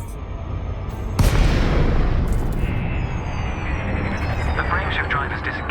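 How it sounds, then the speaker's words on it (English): Frame shift drive disengaging in Elite Dangerous, a sudden loud boom that settles into a broad, roaring whoosh, with thin high tones sweeping across it as the roar slowly fades. "The frameshift drive is disengaged."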